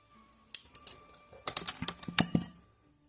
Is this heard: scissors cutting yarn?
yes